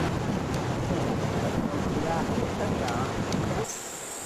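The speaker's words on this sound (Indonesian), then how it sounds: "Saksikanlah sendiri keganasan Kiham Udang ketika tim ekspedisi Yayasan Bina Putra Hulu Mahakam melintas jeram-jeram Sungai Mahakam menuju Long Apari." An expedition boat crosses the Kiham Udang rapids of the Mahakam River in East Kalimantan, Indonesia, with a constant roar of rushing water and wind buffeting the microphone that drops off near the end.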